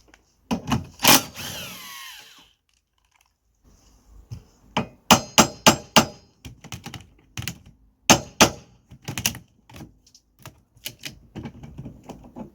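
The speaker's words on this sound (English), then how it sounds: "I'm using a 17mm socket to take the whole wiper arm off." A 17mm socket working the wiper arm nut off a Honda Civic, giving clusters of sharp metallic clicks and knocks in irregular bursts, close by, with quiet pauses between them.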